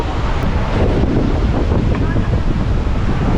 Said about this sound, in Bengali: উত্তাল সমুদ্র